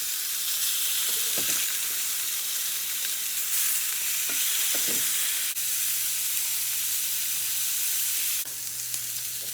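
Filet mignon sears in a hot pan with a steady, broad sizzle and hiss that holds throughout, broken now and then by faint clinks and small pops, with no voices.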